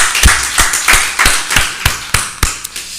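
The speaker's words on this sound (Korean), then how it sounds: "주님께 박수로." A church congregation claps in a loose, steady rhythm, about ten sharp claps over a few seconds, close and fairly loud with no talking.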